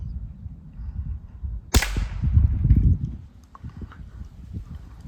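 A single sharp, fairly quiet gunshot crack, followed by a muffled rumble and light clatter in the background.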